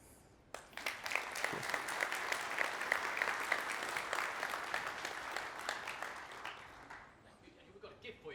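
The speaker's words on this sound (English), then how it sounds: "Give Daniel another big round of applause" A conference audience breaks into sustained applause after a talk, starting after a brief pause and building into dense clapping before fading out near the end.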